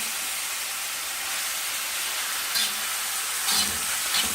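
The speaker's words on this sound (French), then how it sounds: "la viande commence à être bien saisie" Beef and onions sear in a hot wok, a steady broadband sizzle running throughout with a couple of brief louder bursts of stirring near the end, close and alone.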